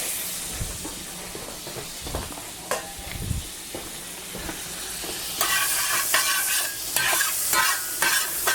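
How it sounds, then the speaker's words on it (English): Butter sizzles and hisses loudly in a pan with browned rabbit pieces, with scraping stirring and a sharper frying surge partway through, steady and close with no talking. "I'm going to add a little bit more butter here."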